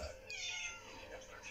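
A Persian cat meows in a household that once kept many Persians, giving a single drawn-out, wavering cry close by, with faint background noise.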